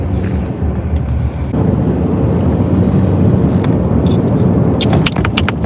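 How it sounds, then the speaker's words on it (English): A recently repaired car runs with a loud, steady engine rumble mixed with road and wind noise, and a few sharp clicks appear toward the end. "Car sounds like, no, I actually got my car fixed today."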